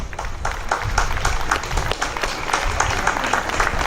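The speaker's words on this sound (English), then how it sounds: "let's give a big round of applause to all those sponsors that we have and all these people up here on the stage" An outdoor Canada Day audience claps for sponsors and people on stage, a loose, moderately loud spread of individual hand claps with distinct hits, some nearby, amid light crowd noise.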